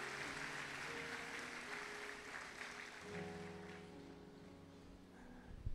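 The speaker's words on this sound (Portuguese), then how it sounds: "Vamos aplaudir" Church congregation applauds during a communion service, a steady wash of clapping that gradually fades as sustained organ-like keyboard chords and a low hum take over underneath.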